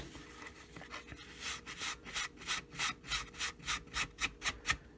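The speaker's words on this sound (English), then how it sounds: "I'm sitting here buffing my skull." Buffing a cast skull by hand: a steady run of rhythmic rubbing strokes, about a dozen swishes that grow louder and quicker, close by and without speech.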